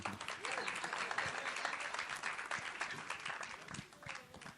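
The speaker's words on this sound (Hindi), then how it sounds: "मैं चाहता हूँ कि मनीषा जी स्टेज पर आए, मैं एक बार ताली बजाइए ना आप।" Audience at a film trailer launch applauding steadily, a dense wash of clapping that fills the whole stretch at even strength, with a little voice mixed in.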